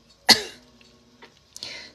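A single sharp cough sounds close and loud, followed by a quieter throat noise and a second brief burst about a second later.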